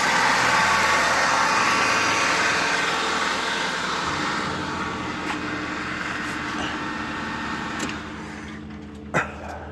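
A 2002 Saturn SL1 engine idles steadily and loudly close by, a dense continuous hum with faint ticks, easing slightly toward the end.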